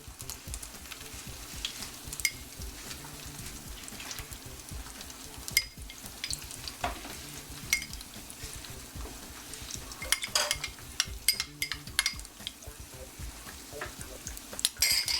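Onions frying in a pan for a Kentucky-style breakfast, giving a steady soft sizzle with occasional stirring scrapes and clinks of a utensil against the pan, close and continuous with no talking.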